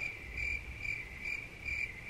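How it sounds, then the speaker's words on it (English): Crickets chirp outdoors in a steady high, pulsing trill, faint and somewhat distant, with a low background rumble and no voices. "Exactly. Crickets."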